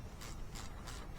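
A ratchet wrench tightens rod bolts on a 5.3 LS engine with quick, quiet repeated clicks in an even rhythm over about a second, close by with no talking.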